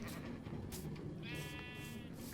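A sheep bleats in a video game wool farm of color-coded sheep, one drawn-out wavering bleat rising above a steady hum of background game noise.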